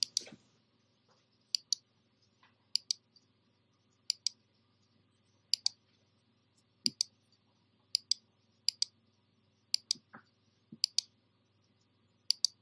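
Computer mouse clicking while placing anchor points with a lasso selection tool in Photoshop: sharp, quiet single and double clicks at irregular intervals over a faint steady hum, with no talking.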